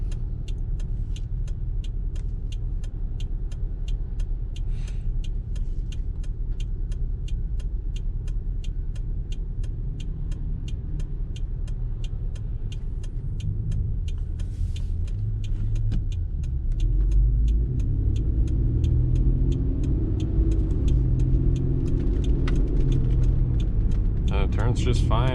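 A 1992 Mitsubishi Pajero 3.0 V6 drives in four-wheel drive high, its steady low engine and road rumble continuous throughout and swelling toward the end, with a person talking over it.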